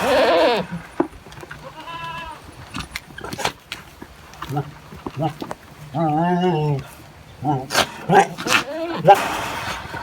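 Goats bleat in repeated wavering calls among a load of fourteen goats headed to a livestock sale, close and fairly loud, interleaved with someone talking and some knocking.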